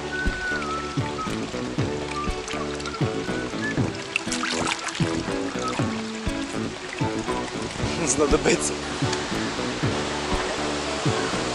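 Rushing water of the Düden waterfall in Antalya, a constant broad roar that fills the scene, with people talking over it and some background sounds nearby.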